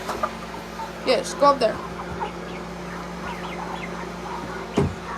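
Hens and a rooster clucking in a backyard coop, close and repeated, with short squawks over a steady low hum while a person speaks briefly.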